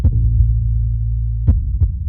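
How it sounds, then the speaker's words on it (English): Rapid, muffled heartbeat close up: low throbbing pulses over a steady deep hum, two sharper thumps near the end, no talk. "Why is your heart beating so fast?"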